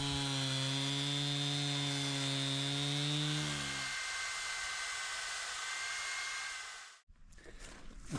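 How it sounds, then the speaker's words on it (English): A power saw drones loudly while cutting up log stumps outdoors, its steady engine whine dipping in pitch partway through before cutting off abruptly near the end. "So I've got to cut up these log stumps so I could set these targets on there."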